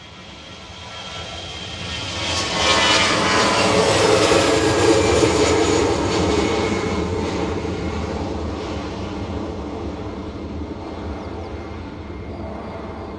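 An airliner departs Bristol Airport on a Glasgow service, its jet roar swelling over a few seconds to a broad, loud peak, then slowly fading as it moves away.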